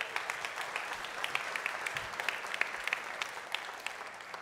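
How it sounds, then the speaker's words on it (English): Conference keynote audience gives a round of applause: scattered, fairly distant crowd clapping with individual claps popping out, steady for several seconds at a modest level. "Can I get a round of applause for New Relic Logs?"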